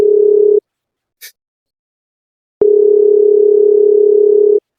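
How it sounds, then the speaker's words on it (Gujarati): Phone ringback tone on an unanswered call: a loud, steady electronic tone sounds in two long bursts separated by a silent gap of about two seconds, with no voice answering. "આ તો ફોન એ નહીં ઉપાડતો"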